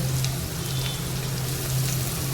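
Spices with onion, ginger, garlic and chili sizzle in hot tempering oil for a stuffed spiny gourd curry, a close, continuous crackling hiss over a faint low hum, with no talking.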